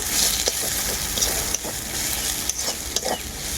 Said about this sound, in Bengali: এরপর এর মধ্যে দিয়ে দেব হলুদ গুঁড়ো আর দেব কাশ্মীরি লঙ্কার গুঁড়ো কয়েকটা কাঁচা পাকা লঙ্কার চেরা একসাথে খুব ভালো করে কষিয়ে নেব